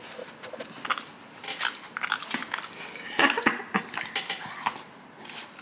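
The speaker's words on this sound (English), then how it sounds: "So I bought Jackson this cowhide thing with like bully stick filling" A dog gnaws a cowhide chew filled with bully stick, producing close, irregular crunching bites and wet chewing that continue steadily throughout.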